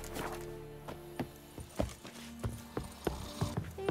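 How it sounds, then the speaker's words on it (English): Roach, the horse in The Witcher 3: Wild Hunt, trots along with crisp, evenly spaced hoof clip-clops, close and clear over a soft game-world background with no talking. "And back to Roach, who is waiting so patiently. What a good horse."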